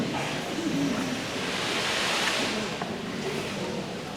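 An ocean drum played at a middle school band spring concert imitates ocean waves with a soft, broad hissing wash that swells and recedes over several seconds.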